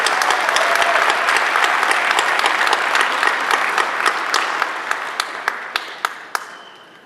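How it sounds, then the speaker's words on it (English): Audience applause fills a commencement ceremony hall, dense steady clapping that thins toward the end into a few sharp, separate claps before fading out. "Give a round of applause to these two gentlemen."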